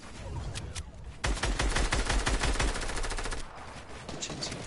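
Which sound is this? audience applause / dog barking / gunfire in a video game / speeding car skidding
gunfire in a video game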